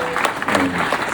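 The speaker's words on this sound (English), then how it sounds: "Let's give a round of applause for these fantastic musicians on stage." Applause from a jazz club audience at Jazz St. Louis for the musicians on stage, a brief burst of steady clapping with some crowd noise mixed in.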